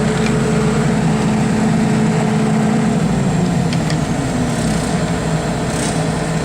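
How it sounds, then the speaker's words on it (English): A generator running in cool down before shutdown, a loud, steady engine drone with a constant low hum that holds unbroken throughout. "now we're in cool down. And I'm going to try and shut the generator down"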